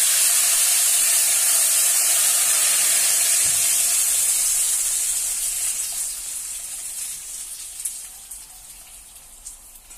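Steady loud sizzling hiss of tamarind extract poured into a hot pan, a broad spitting crackle that gradually fades and settles toward the end.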